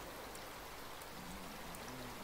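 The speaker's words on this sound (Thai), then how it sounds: "ฝนยังตกอยู่อ่ะ" Rain in the survival game Raft makes a continuous soft patter and hiss, even and unbroken throughout, with no voices.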